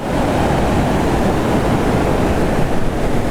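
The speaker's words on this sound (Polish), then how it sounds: "I ten ogromny wodospad ma tą dość spokojną rzekę, którą spływa" A large waterfall pours into a fairly calm river, giving a loud, steady, broadband roar of rushing water that holds constant throughout with no voices.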